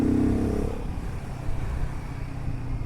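Royal Enfield Himalayan 450 motorcycle engine pulling hard at high revs with an aftermarket air filter fitted, a steady, loud, continuous drone throughout with no speech.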